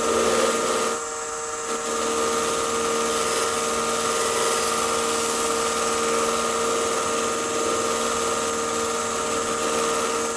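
Steady whine of an 8-inch buffing wheel spinning at about 1200 RPM against a natural-edge oak crotch bowl, with a constant mechanical hum and high tonal ringing that dips briefly near the start, running continuously without talk.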